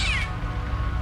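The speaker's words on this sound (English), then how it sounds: "There's that cat." A single short, high cat meow in the video game Siren 2 at the start, followed by a low droning background hum.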